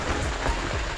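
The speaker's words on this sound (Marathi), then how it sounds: "पाण्याचा आवाज येतोय त्याच्यामुळे तुम्हाला ऐकू येत नसेल कदाचित" Steady rush of water flowing at a hot spring pool near Chiplun, a continuous broadband splashing wash that stays loud and close throughout with no voices.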